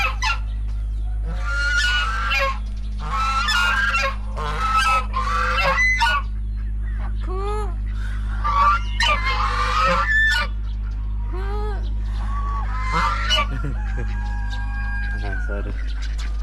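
Geese honk repeatedly in a private park, loud ragged calls in clusters near the start, then scattered calls, with chickens and a rooster mixed in over a constant low hum.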